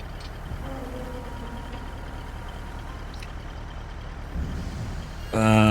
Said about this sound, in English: That's if the truck can get round.